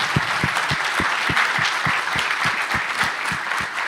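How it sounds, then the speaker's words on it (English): An audience at a forum on displacement breaks into applause, a dense, steady wash of many hands clapping, loud and sustained with rhythmic accents throughout. "please give yourself a round of applause"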